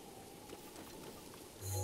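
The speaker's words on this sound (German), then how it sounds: "Ist jetzt gerade natürlich blöd mit dem Regen." Rain falls in the video game Zelda: Breath of the Wild as a soft, steady patter, faint and continuous, swelling a little at the very end.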